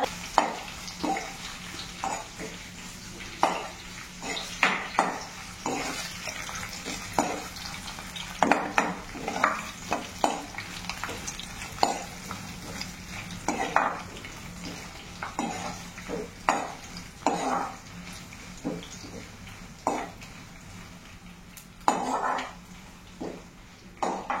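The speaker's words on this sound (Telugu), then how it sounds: "ఇప్పుడు ఎండుమిర్చి వేసుకున్నానండి. తర్వాత ఎల్లుల్లి వేసుకున్నానండి." Dry red chillies and garlic fry in a pan, a soft continuous sizzle broken by frequent spoon scrapes and clinks against the metal, close and fairly loud throughout.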